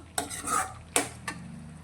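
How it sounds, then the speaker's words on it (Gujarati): Spoon stirring gravy sautéing in a pan over a low flame, a few quick scraping strokes against the metal over a faint background sizzle, close and quiet. "ધીમા ગેસની ફ્લેમ પર હવે આપણે આ ગ્રેવીને સારી રીતે સંતળાવા દઈશું।"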